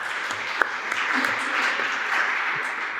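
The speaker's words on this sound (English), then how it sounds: "So can we also give some applause to Nerijus?" Audience at a philosophy conference applauding, a steady patter of many hands clapping in a room for about three seconds.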